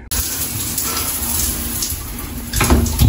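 Tap water runs in a steady broadband rush throughout, with a brief splashy surge near the end.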